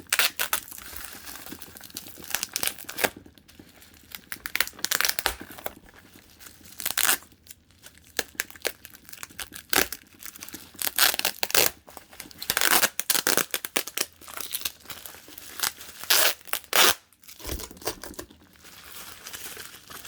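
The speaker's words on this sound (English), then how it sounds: "Try to cut some of the tape a little bit without cutting my finger." Knife slicing through packing tape on a Lego box, with repeated short tearing and crinkling bursts of tape and cardboard, close and fairly loud in a broken, irregular rhythm over about twenty seconds.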